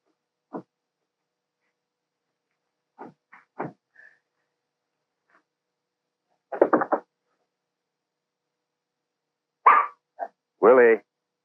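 A dog barks in short separate bursts, a few single yaps early on and then clustered barks later, loud and close against near silence between them.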